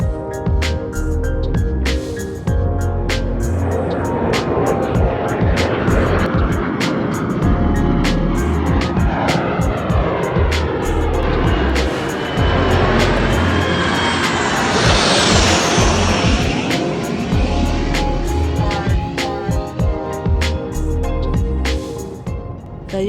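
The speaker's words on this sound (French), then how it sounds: "Avec les avions qui nous survolaient, c'était vraiment émouvant." Patrouille de France jets passing overhead during an air display, heard from a boat anchored nearby; a loud sustained roar that swells and sweeps past with a shifting pitch, steady throughout.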